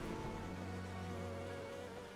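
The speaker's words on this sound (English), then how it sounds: "Oh, now we're under attack by bees." Attacking bees in the video game Enderal make a steady, continuous insect buzz at a low level, droning without a break, with no voices over it.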